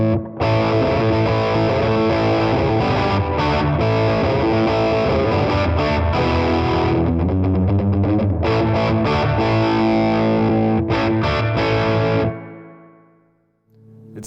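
An electric guitar plays through a Line 6 Catalyst 200 amp with heavy reverb and distortion, a loud continuous stream of chords that rings out and fades at the end.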